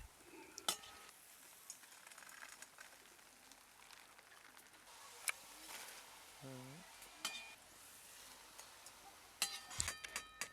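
Rice dumplings for chushi pitha fry in oil in a pan, a faint, low crackle with scattered sharp pops and clicks, quiet throughout.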